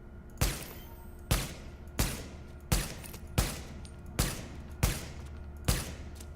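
Gunfire from a stable weapon in the video game Tom Clancy's The Division, heard as eight evenly spaced sharp shots about every 0.8 seconds, each with a short decaying tail, loud and clear with no voices.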